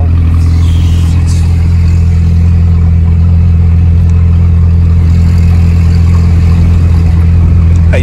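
Fiat Tipo 1.6 Turbo engine running loud and steady with a deep low drone while drifting in a large empty lot, holding near-constant revs with faint clatter, alone without talk.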